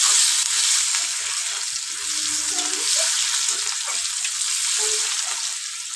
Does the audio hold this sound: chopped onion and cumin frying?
yes